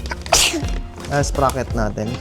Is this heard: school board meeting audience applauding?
no